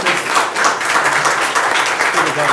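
An audience clapping at a county board of supervisors meeting, a loud, sustained round of applause from the crowd that fills the room without pause.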